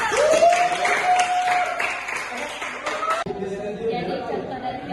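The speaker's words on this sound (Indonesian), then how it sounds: "Tepuk tangan." Classroom applause breaks out during a micro-teaching lesson, a burst of clapping from students mixed with chatter and voices talking over it, fading into murmuring.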